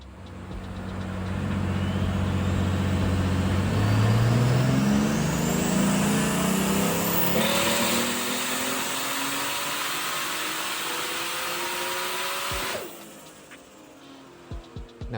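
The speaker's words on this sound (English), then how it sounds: "So after a little bit of tuning from Greg, here comes the first pull." Boosted BMW E36 engine revving hard on a hub dyno, rising harmonics climbing steadily for about twelve seconds before abruptly cutting off, followed by quieter idle and a few small pops near the end.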